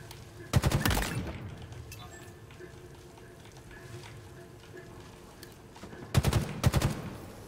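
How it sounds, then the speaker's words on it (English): Gunfire in the shooter game Halo Infinite: two loud bursts of rapid shots, one near the start and one near the end, with a low background hum of game sound between them. "Oh, good shooting there."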